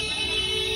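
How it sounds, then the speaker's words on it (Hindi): Car horns in a crowded Sadar Bazar market street in Delhi blare in a steady, overlapping wall of tones. The sound is loud and continuous throughout, with dense street noise underneath. "हॉर्न इतना हो रहा, ब्लॉग नहीं बन पा रहा भाई"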